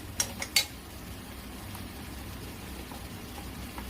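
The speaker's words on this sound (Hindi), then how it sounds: "इसे मैं चला दूंगी, अच्छी तरह से चला दूंगी" Spoon stirring shahi paneer masala in a pan, a few sharp metallic scrapes and clinks at the start, then a quiet background hiss with faint occasional taps.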